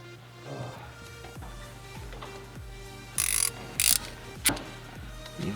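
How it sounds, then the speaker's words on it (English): A 4mm Allen key tightens the shifter bolts on a Cube Speed W55 short shifter for a Lexus IS300, giving a steady series of close, light ratcheting clicks with a few brighter metallic taps. "Evenly tighten these bolts down with a 4mm Allen key."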